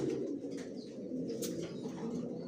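Johnson Maxi racer pigeon chicks, a pair from the same loft, coo softly and continuously up close, with a faint flutter or rustle partway through.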